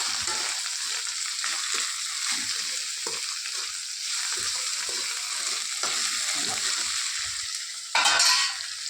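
Food fries in a pan after salt is added, giving a steady, close hiss and sizzle with soft scraping stir strokes throughout and a louder stir near the end, with no talk.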